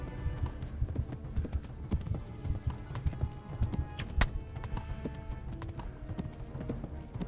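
Horse hooves clip-clop in a quick, rolling rhythm as the horse runs along in Kingdom Come: Deliverance, close and prominent, with faint game ambience and occasional sharper knocks underneath.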